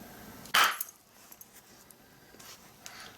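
A soft hammer strikes a flint core to knock off a flake, giving one sharp, close knock followed by a few faint small clicks in a quiet room.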